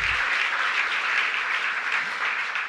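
A crowd at an Emancipation Day breakfast applauds a council member, a continuous, even burst of many hands clapping without speech.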